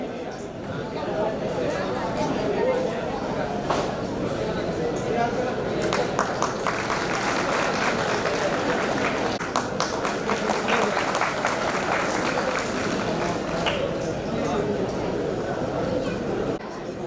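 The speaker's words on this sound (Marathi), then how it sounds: "त्यांच्यासाठी जोरदार टाळ्या झाल्या पाहिजे." An audience at a coupon prize-draw ceremony applauds with steady, dense clapping that continues for a long stretch. Someone talks over it on a loudspeaker throughout.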